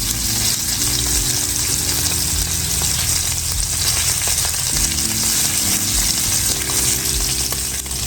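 A steak fries in a hot pan with loud, steady sizzling and spattering that runs unbroken from start to finish, with no talk over it.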